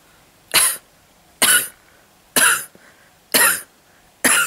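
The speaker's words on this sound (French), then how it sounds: "Aujourd'hui, il tousse particulièrement beaucoup et ça dure longtemps." A man's prolonged coughing fit: five separate harsh, forceful bursts at a steady rhythm, each roughly a quarter second long with short quiet gaps between, loud and close with no talking.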